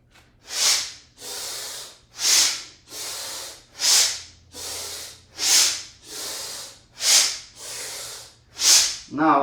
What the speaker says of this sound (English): and breathing out through your nose